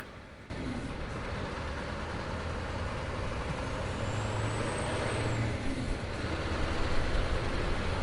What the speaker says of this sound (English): we are using this truck to transport our horses